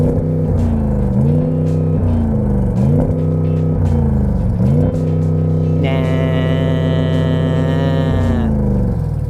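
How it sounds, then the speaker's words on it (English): An Audi S8 V8 engine revs repeatedly, rising and bouncing off a soft limiter in a loud, rhythmic pattern before settling into a sustained high-pitched hold. "For instance, rev up the engine, go on."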